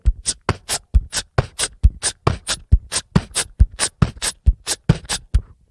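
A voice beatboxes a fast, steady pattern that imitates kick drum, hi-hat and snare together, with dense rhythmic bursts of hisses and thumps running continuously for several seconds, close and clear.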